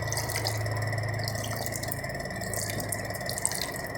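Steady water runs from the cold tap of a hot-and-cold drinking water dispenser with a constant hiss and faint drips, close by, with a low hum underneath and no talking.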